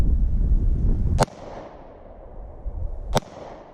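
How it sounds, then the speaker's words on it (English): Two sharp, loud gunshots ring out outdoors about two seconds apart, each followed by a short echoing decay across open land. "We'll pop off a shot or two."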